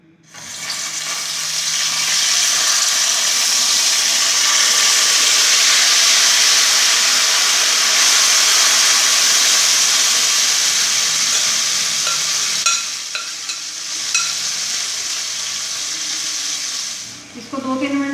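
Chicken pieces hit half a cup of hot oil in a pan over a high flame, giving a loud, steady sizzle that holds for many seconds and eases slightly near the end.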